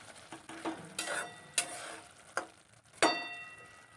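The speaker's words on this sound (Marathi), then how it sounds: "अधूनमधून या शेंगांना असं परतून घ्यायचं आहे त्यामुळे त्या खाली नाही डसणार" Dolichos bean pods being stirred and turned in a pan as they cook, with a series of scraping, rustling stir strokes over a soft background sizzle, fairly close and with no talking.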